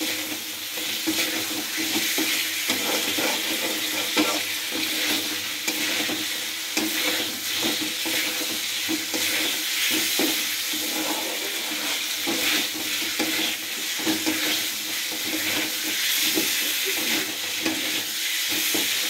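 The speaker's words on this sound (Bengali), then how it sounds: "আলুটা দিয়ে নাড়াচাড়া করব। একটু নাড়াচাড়া করতে করতে সামান্য পরিমাণ জল দেবো" Potatoes for a spiced potato curry frying in a pan while being stirred, a steady close sizzle with constant scraping and stirring motion throughout, no voices.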